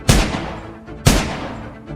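Two loud, unsilenced gunshots ring out from a kitchen, about a second apart, each a sharp blast trailing into a long echoing decay.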